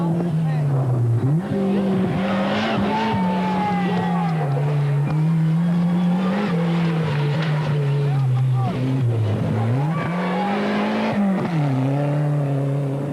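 A Rothmans Audi Quattro rally car is driven hard on a desert special stage of the Dubai Rally, its engine rising and falling through gears in a continuous loud drone, with a commentator talking over it throughout.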